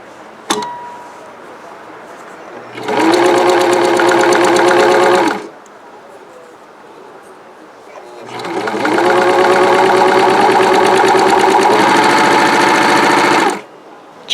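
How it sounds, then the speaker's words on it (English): A serger sewing machine overlocks the sides of fabric in two bursts, a short run and then a longer one, each a loud, close, rapid mechanical whirr that starts and stops abruptly, with a sharp click at the start. "The first step is to serge the sides starting from the tip. Position your serger there."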